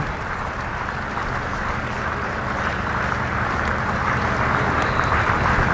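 Applause for Ricky Ponting's century during the 1999 Sri Lanka vs Australia Test at Colombo comes as a steady, wash-like roar of clapping and crowd noise from the ground, continuous and fairly distant.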